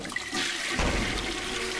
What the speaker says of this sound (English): Flush the food.